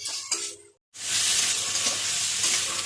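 Spice paste and potatoes fry and are stirred in a pan, with steady loud sizzling after a short pause and light stirring scrapes under it.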